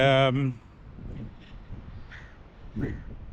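A house crow perched on a sign in Durban gives a loud harsh caw at the start, followed by faint distant caws while a person talks quietly.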